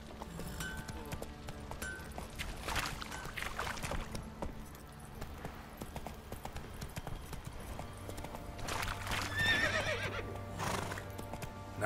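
Horse hooves clop steadily while a horse whinnies loudly a couple of times in the video game The Witcher 3: Wild Hunt, with water sloshing and faint background ambience.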